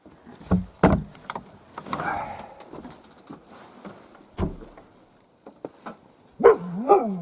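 Dogs on a forest hunting trip in Komi bark in a few sharp, close outbursts separated by pauses, with a whimpering, rising yelp near the end.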